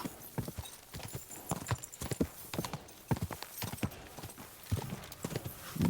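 A horse's hooves pound at a gallop in Kingdom Come Deliverance 2, with rapid irregular clip-clop strikes close by and no pause over several seconds.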